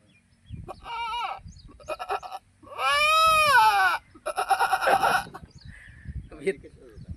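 A man imitates a pure village billy goat, giving a series of nasal bleats of varying length, loud and close, the longest and most wavering in the middle, with brief quiet gaps between them.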